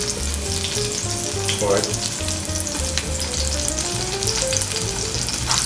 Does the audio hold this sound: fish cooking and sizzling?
yes